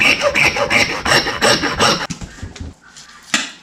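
A blade saws back and forth through a side of pork in rapid, rhythmic rasping strokes up close, then slows to a few scattered scrapes before stopping.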